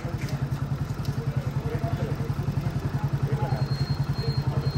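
A motorcycle engine idles and chugs steadily with a regular low thumping pulse while a beginner rider works the gears, close and continuous, with faint voices in the background.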